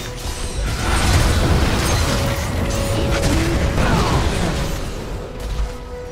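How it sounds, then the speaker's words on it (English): Turret destruction in League of Legends: a dense, loud mechanical crumbling with creaks, ratcheting clatter and deep booms, sustained throughout amid game sounds. "Your turret has been destroyed."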